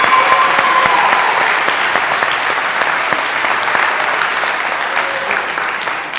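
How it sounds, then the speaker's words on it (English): A church congregation applauds its oldest members, a dense, sustained round of clapping from a large crowd that fills the room and fades slightly toward the end. "Let's all clap for our elders born before"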